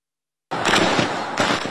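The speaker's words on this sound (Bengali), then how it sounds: "মুহুর্মুহু গুলির শব্দ" Gunfire in Bandarban, Bangladesh, as bursts of loud, sharp reports follow a short silence, with two strong cracks about a second apart and ringing decay between them.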